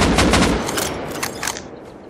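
Rapid gunfire in the PvP video game Rust, a dense burst of overlapping shots that trails off into a few scattered pops over about two seconds, loud and close with no speech.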